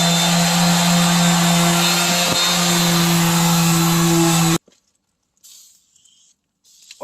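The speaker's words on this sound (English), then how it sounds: "at this point I decide to sand all this part" A power sander works over a rusty car door jamb with a steady, loud humming whine and a gritty abrasive hiss, then cuts off abruptly, leaving near silence and a few faint handling noises.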